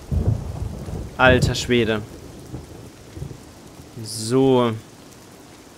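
Steady rain and rumbling thunder from the Fallout: New Vegas video game wash through the background, while a voice speaks briefly over the storm.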